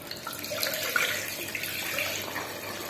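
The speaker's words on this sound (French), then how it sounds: "puis on met beaucoup d'eau" A large amount of water pours into a soup pot holding bones, carrots, a small potato and a peeled onion for a collagen-rich bone broth. It makes a steady, moderate splashing rush with no talk.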